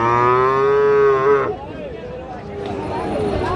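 A cow at the Raniganj cattle market gives a loud, drawn-out moo up close, followed by people talking in the background.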